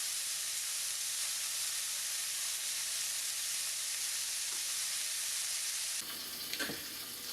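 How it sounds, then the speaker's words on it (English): Burger patties fry in butter with garlic and thyme, giving a loud, continuous close sizzle. Near the end the hiss shifts as the pan juices are spooned over them. "as we fry our patties, we're going to keep spooning over all the juices back onto them."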